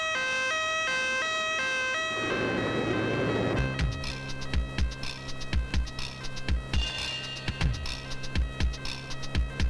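An ambulance siren in a Hindi action film scene, loud stepped wailing tones at first, then giving way to dramatic music with heavy rhythmic percussive hits.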